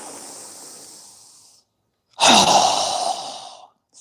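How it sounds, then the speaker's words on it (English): Two sharp, forceful exhalations pushed out through the mouth during a yoga breathing exercise, the first softer and trailing off, the second louder and breathier after a short silence. "exhale very quickly with a strong breath through our mouth"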